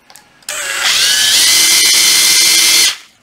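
Makita cordless impact driver spun up unloaded, giving a loud, steady high-pitched motor whine for about two and a half seconds before cutting off, close to the listener.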